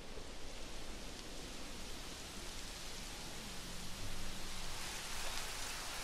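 Steady rain in the dinosaur park-building video game Jurassic World Evolution, a continuous broadband hiss with no talk, swelling slightly louder toward the end.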